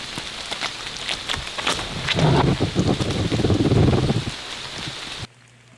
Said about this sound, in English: That rain is starting to come down.